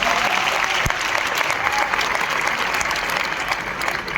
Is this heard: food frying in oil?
no